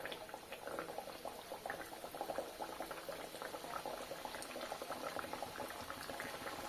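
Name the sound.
potato patties frying in hot oil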